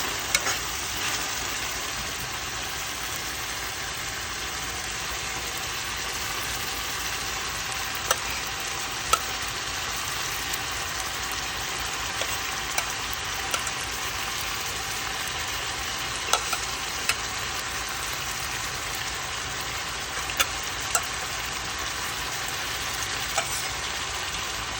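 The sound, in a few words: salt mackerel added to pan, frying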